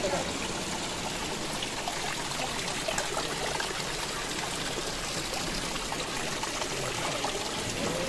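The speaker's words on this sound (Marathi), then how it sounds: "गायमुख येते त्यातून पाणी येतं" Water pours steadily from a cow-mouth spout at Ganpatipule temple, a continuous splashing rush heard up close and fairly loud.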